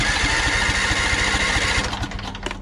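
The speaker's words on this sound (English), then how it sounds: "You have to let it crank a bit to get the fuel in there." A Briggs & Stratton 23HP Vanguard V-twin vertical-shaft engine with a surging carburetor cranks with a loud, steady rhythmic churn close by, then the cranking pattern breaks up and falters toward the end, with no one talking.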